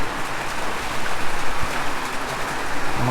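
Heavy rain and strong wind lash a rural province during stormy typhoon weather, a dense, steady roar of falling water and gusts that continues without a break, loud and close throughout.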